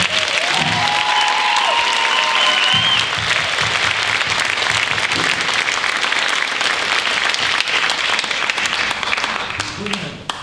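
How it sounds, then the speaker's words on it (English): An audience at a high school band spring concert claps in sustained, dense applause for the seniors, loud and close, with a few voices and brief tones rising through it before the clapping tapers at the end. "how about one more round of applause for all of our seniors?"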